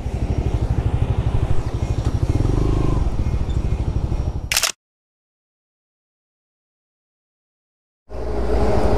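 A Suzuki GSX Bandit motorcycle rides on a touring trip through East Java, with a loud, steady engine rumble and road noise that cuts to silence midway, then resumes.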